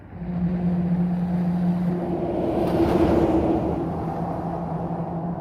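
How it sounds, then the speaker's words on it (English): Cars pass over the steel deck of a bridge across the Tennessee River, a loud, sustained droning hum with steady tonal whine that swells in the middle and holds for several seconds, no talking. "Just listen to how loud this surface is when cars go on it."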